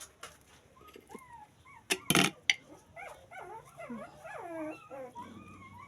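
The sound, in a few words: puppies barking and yipping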